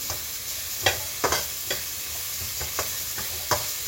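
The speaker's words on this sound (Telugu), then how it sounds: "ఆనియన్ మర్చిపోయింది, ఆనియన్ వేస్తున్నాం" Onions sizzle and fry in a hot pan, a steady hiss broken by several sharp scrapes and clacks as a spoon stirs them at an irregular rhythm, close and fairly quiet with no talking.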